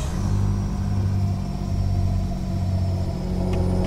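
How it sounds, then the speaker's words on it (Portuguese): A truck engine in Euro Truck Simulator 2, hauling a sugar load, gives a steady low rumbling drone that stays loud and even throughout, with no talking over it. "eu tô sentindo o motor do caminhão bem mais forte mesmo."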